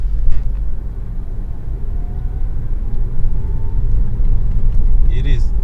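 Inside a Toyota Avensis 2.0 VVTi on the road, a constant low rumble of engine and tyre noise fills the cabin, with a faint brief chirp near the end and no clear talk.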